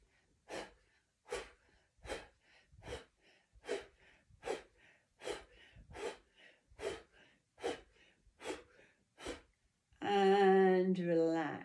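Repeated sharp exhaled breaths, about a dozen in an even rhythm, from a person doing a seated qigong breathing exercise, close and fairly loud, ending with a brief burst of voice.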